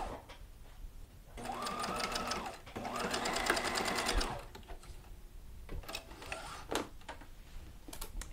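A sewing machine stitches a peplum blouse in an up-cycling project, running in two steady whirring bursts close by, then slowing to a few scattered ticks and clicks.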